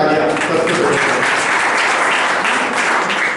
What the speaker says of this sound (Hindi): मोहम्मद भाई के लिए जोरदार तालियां।